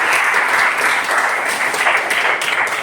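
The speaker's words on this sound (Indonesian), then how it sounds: "Oke, tepuk tangan buat kita semua." A classroom of vocational welding and metal fabrication students claps together in steady, dense applause that holds evenly throughout, close and fairly loud.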